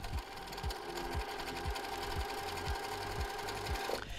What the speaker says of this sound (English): You probably can hear I've got the machine going fairly fast, even though my hands aren't traveling fast